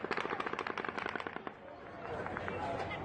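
Gunfire from the Las Vegas Mandalay Bay shooting, a rapid automatic burst crackling in a fast, even rhythm for about a second and a half, distant and echoing, then dying into a rumbling outdoor wash.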